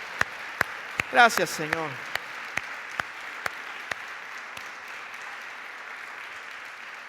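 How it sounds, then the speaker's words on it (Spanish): A church congregation applauds during an Easter sermon, a brief burst of clapping that gives way to a few scattered, sharp individual claps, with a voice briefly speaking over it. "Denle un aplauso, denle gloria al Señor."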